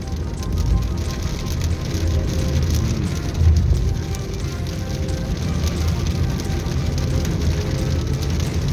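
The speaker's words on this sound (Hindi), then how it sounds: "यहाँ अब बारिश और तेज़ हो गई है।" Steady heavy rain hisses and patters on surfaces, a dense continuous wash of noise with no voices.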